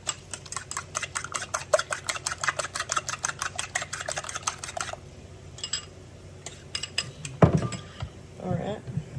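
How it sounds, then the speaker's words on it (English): A fork whisks breakfast eggs in a bowl with rapid, regular clinking strokes against the side, close and crisp, then a few scattered taps and clatters as the whisking stops, with a short burst of talk near the end. "Now I'm just getting a fork just to whisk it. Now I'm not using this to cook it. Just whisking this all up."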